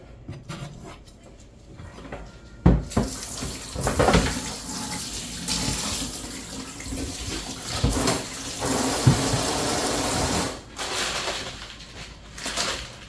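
Tap water runs steadily into a sink while vegetables are washed in a home kitchen, a continuous splashing flow that swells and dips with handling, with a brief quieter moment near the end.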